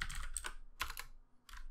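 Keys clack on a computer keyboard in three short bursts of typing, close and crisp, with quiet gaps between and no talk.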